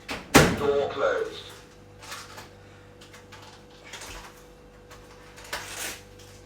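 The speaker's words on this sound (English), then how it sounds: "Door closed." A microwave door shuts in a kitchen with a sharp, loud clunk at the start, followed by quieter rustling and handling sounds over a steady hum.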